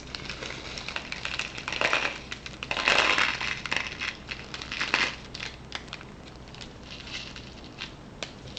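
Small kaleidoscope beads poured into the lens chamber give a soft, close patter and crunchy rattle that swells for a few seconds and then thins into scattered ticks.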